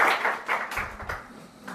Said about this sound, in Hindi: तो अच्छा है, तालियां